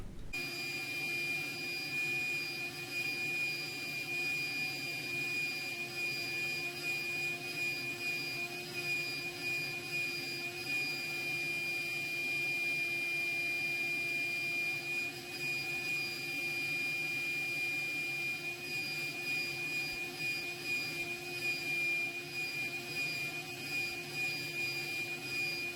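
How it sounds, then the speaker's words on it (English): A shop vac runs steadily while a cluttered bedroom is cleaned, giving a continuous, loud motor whine with a sustained high-pitched tone and even airflow roar from start to end, with no talk. "I'm so glad I brought my shop vac"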